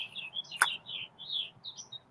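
Pet bird named Chirpy chirping nearby, a run of short high tweets repeating in quick succession, with one brief sharp click partway through.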